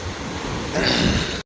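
Sea waves wash over a beach in Jaffna where people are bathing, a steady broadband rush that swells louder partway through, with no voices rising clearly above it.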